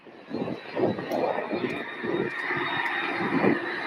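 A Boeing 737-700 jet airliner with split scimitar winglets roars steadily at an airport, its engine noise sustained and fairly loud throughout, with some chatter faintly mixed in.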